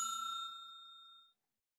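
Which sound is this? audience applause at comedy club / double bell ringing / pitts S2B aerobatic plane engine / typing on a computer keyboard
double bell ringing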